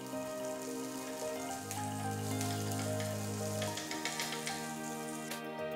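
Paneer bhurji cheese sandwich toasting in butter on a pan, a steady close sizzle and crackle with a low hum from the stove running underneath throughout.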